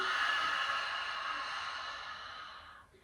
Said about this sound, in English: exhale with the mouth open